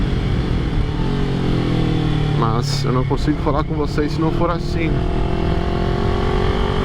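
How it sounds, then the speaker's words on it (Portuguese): A motorcycle engine drones and rumbles steadily throughout, picked up by a microphone on the rider's helmet, with someone talking over it in the middle. "Sei que o ronco da moto não fica tão legal"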